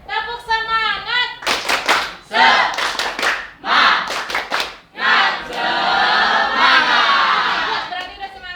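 A single voice calls out, then a classroom of students answers with the tepuk semangat spirit clap, sharp rhythmic group claps in quick bursts, ending in a long, loud shout from the whole class.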